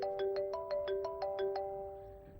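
A mobile phone ringtone plays a quick series of about nine bright, evenly spaced electronic chime notes, moderately quiet, then fades out with no voices.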